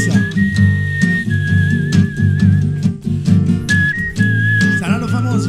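A whistler performs a song live on a radio show, clear sustained melodic whistled notes gliding between pitches over a loud rhythmic music backing track.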